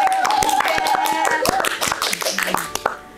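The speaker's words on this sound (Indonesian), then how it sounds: "tepuk tangan dulu" Applause at a graduation ceremony for top cadets of the Surabaya maritime polytechnic, a dense burst of many hands clapping that fades out toward the end, with speech mixed in.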